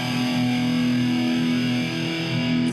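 An electric guitar played through a distortion channel switched on with a foot pedal rings out as a sustained, buzzing held chord, steady and fairly loud before cutting off at the end.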